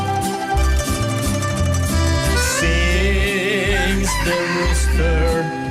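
A rooster crows over loud music with a steady beat and sustained tones, the crow partly blending into the song.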